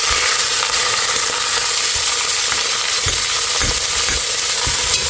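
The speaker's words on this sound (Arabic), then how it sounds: "هشوحها في نفس الزيت اللي احنا حمرنا فيه التوم" Minced meat sizzling and sautéing in oil in a pot, the oil having just been used to fry garlic; a dense, steady hiss up close, broken by soft stirring scrapes and taps.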